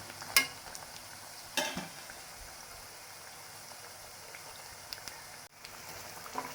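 Eggplant bajji frying in hot oil, a faint steady bubbling sizzle with a couple of sharp clatters from turning the pieces over.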